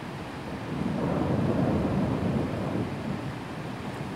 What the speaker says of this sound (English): we're having this thunderstorm right now